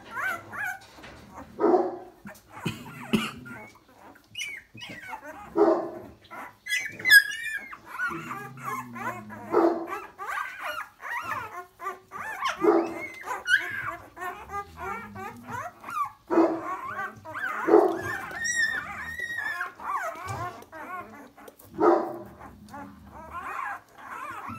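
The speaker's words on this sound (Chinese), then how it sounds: "几只强壮的小狗" Several young Presa Canario puppies on a rural farm yip, bark and whimper continuously, close by, in a busy overlapping chorus of high cries and short barks.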